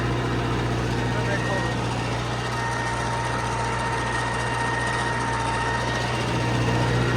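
A tractor engine runs steadily in first gear at about 1600 rpm while working potato field ground, giving a constant droning hum with a faint whine above it, close by and unbroken throughout.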